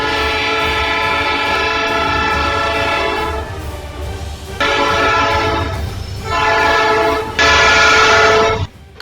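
A train rolls through a level crossing, its horn blaring in repeated long blasts over the steady rumble and clatter of the cars, loud and close throughout.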